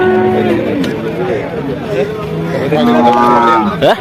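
Cattle moo in long, low, droning calls at a busy cattle market where bulls and calves are traded, heard close and loud over steady crowd chatter.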